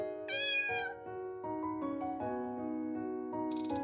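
Cat meowing in the horror video game The Village Demon (Mura Oni): a clear, close, drawn-out meow rising then falling, followed by softer shorter mews over a sustained game music bed, with no talk.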